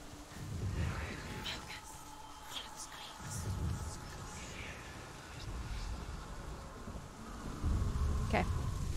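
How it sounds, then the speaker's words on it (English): Distant thunder rolls in Hellblade: Senua's Sacrifice, low rumbles rising and fading several times under a windy, rain-like ambient hiss. "Would you have thought the sound of thunder was IRL?"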